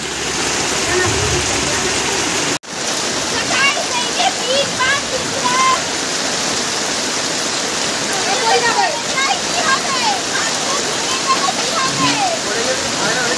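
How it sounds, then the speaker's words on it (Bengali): Water pours down in a loud, continuous rush, like a strong stream or spout, steady throughout with a brief sharp break early on. "দেখো মোটরের মতন জল পড়ছে"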